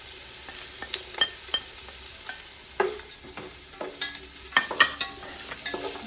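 Whole bay leaf, cinnamon, clove and cardamom fry in hot oil in a pan, giving a soft steady sizzle dotted with sharp crackles and pops, close and without talking.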